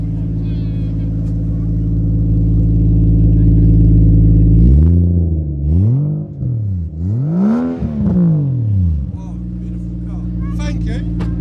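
A 3-litre single-turbo car engine at a classic retro car show idles close by with a steady hum, then revs several times, its pitch climbing and falling before settling back to idle.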